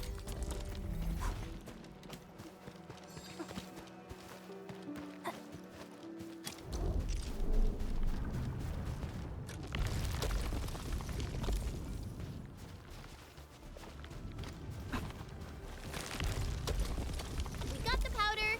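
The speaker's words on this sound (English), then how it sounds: "I say it's time to shred some Originium ore to powder." A machine in the game Arknights shredding Originium ore to powder: continuous mechanical clanking, ratcheting and grinding with rhythmic clatter and a tonal hum, running for nearly twenty seconds, with a break partway through.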